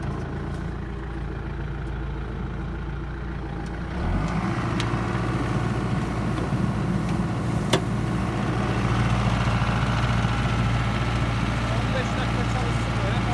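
A farm engine on a Turkish sheep farm idles at low revs with a steady low hum, then revs up at about four seconds and keeps running louder under people talking.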